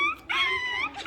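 A small child imitates a puppy's whimper, a close, high, wavering whine with a couple of short yips, brief and alone without other talk.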